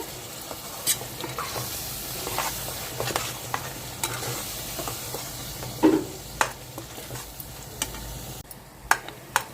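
Farm chicken fry cooking in a pan, a soft steady sizzle with occasional stirring clicks and scrapes, fairly close, with no talk over it.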